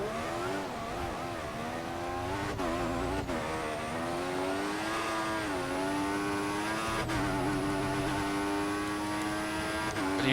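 Formula 1 car engine on a lap in the F1 2014 game, a high-pitched screaming whine that rises and falls with gear changes, with brief drops at shifts, loud and steady throughout.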